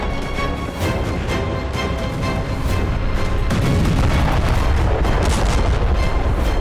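Deep rolling booms and rumbling blasts from an animated depiction of a nuclear explosion over London, loud and continuous with repeated heavy impacts layered over a sustained low roar.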